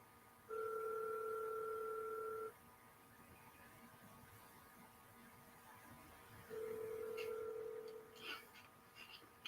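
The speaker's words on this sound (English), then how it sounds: "I'm attempting to call her on WhatsApp." A WhatsApp call ringing out on a phone: two steady electronic ring tones a few seconds apart, near and clear over quiet room noise, with faint shuffling after the second ring.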